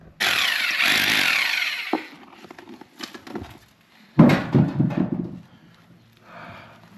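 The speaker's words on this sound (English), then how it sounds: "I'm gonna go get the electric chisel." An electric chisel hammering into a stone wall, buzzing in loud, harsh bursts that stop and start, with a long first run and then shorter chattering spells.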